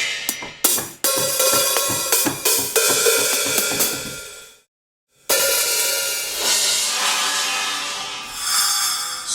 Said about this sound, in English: Cymbals, crashes.